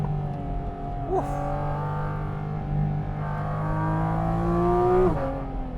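Porsche GT4 RS or 992 GT3 sports car on an Italian mountain pass, engine revving up through gears with quick shifts near the start and end, a loud sustained climbing wail heard from close by.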